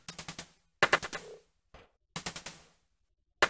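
Gunfire in the Vietnam-era video game Seal Team comes as loud, close bursts of three to four rapid shots separated by short silences, with a faint thud between bursts.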